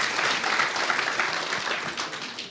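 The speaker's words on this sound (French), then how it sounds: "Je vous demande un tonnerre d'applaudissements." Steady, dense applause from an audience at an evening event for a technical department, sustained and fairly loud throughout without pause.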